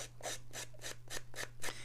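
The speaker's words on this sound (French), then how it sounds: "soit avec les ciseaux, vous pouvez un petit peu abîmer les bords pour faire un aspect irrégulier" Scissors rasp along the edges of a paper card to roughen them, seven rhythmic scraping strokes close up, over a steady low hum.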